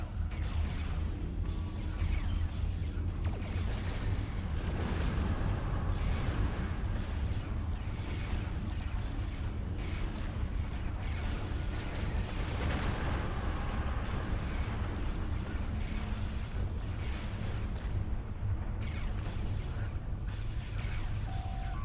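Starship under attack in a Star Trek video game, dense continuous rumbling barrages of weapon impacts and explosions with whooshes and mechanical tones, loud and sustained, without talk.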